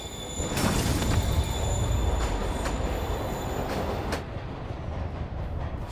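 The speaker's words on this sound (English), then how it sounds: "Train's moving." A train rolls along its track in the PC game Spider-Man Remastered, a loud, continuous rumble with steady clattering and faint high squeals, easing slightly near the end.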